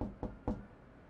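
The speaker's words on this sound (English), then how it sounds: "Knock, knock." Knocking on a door in the video game Marvel's Spider-Man: three close, dull knocks in a quick uneven rhythm, then quiet, with no voices.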